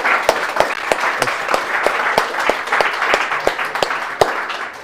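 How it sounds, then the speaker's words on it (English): Audience applause fills the room after a talk at a tech meetup, a steady dense clatter of many hands clapping with sharper individual claps standing out, continuous for the whole span without speech. "it's a big round of applause for Max and his really big suite of packages"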